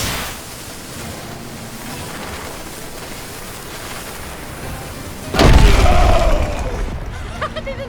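A cannon fires in the video game En Garde!, one loud, deep boom that rolls off slowly after a stretch of steady rain-like noise, followed by faint crackling debris.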